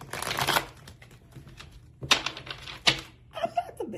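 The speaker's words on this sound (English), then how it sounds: "I'm not the best shuffler in the world, but I do all right." Tarot-style cards being shuffled by hand for a reading, crisp riffling bursts in several short runs with pauses between, close and fairly quiet, no talk.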